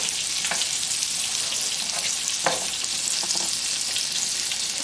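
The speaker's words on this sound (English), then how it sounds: "Let the butter melt together with the leftover oil that we have here." Butter melts into leftover oil in a pan over reduced heat, giving a steady, close sizzle with scattered pops and light clicks of stirring, and no voices.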